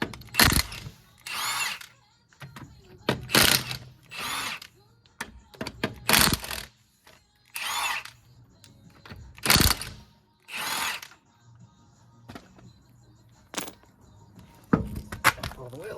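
A power tool unfastens the 17mm wheel bolts on a 2015 Dacia Duster in loud, close bursts of whirring and ratcheting, each lasting about a second with short pauses between, and a voice talks quietly in the gaps.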